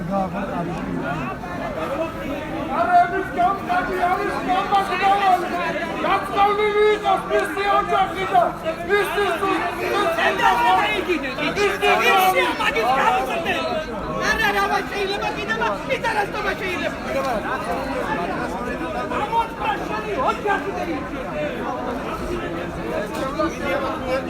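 Protesters gather outside a cinema, a dense crowd of overlapping voices talking and calling out continuously, loud and close, with no single shout rising clearly above the babble.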